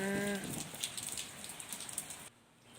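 Rain falling in a steady, hissing patter, faint and distant, with a brief voice at the very start.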